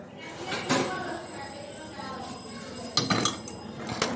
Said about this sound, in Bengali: তো ফার্স্ট গ্যাসটা ধরিয়ে আমি কড়াইটা বসিয়ে দেবো।